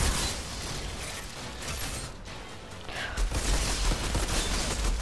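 An infinite-ammo weapon fires continuously in the sci-fi shooter Outriders. The shots come as a rapid, steady stream of gunfire with mechanical clatter, close and fairly loud, and the firing swells again toward the end.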